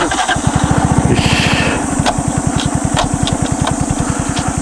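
A Honda Dax 125 motorcycle engine runs close by in gear with a steady, rapid putter and a faint high whine on top.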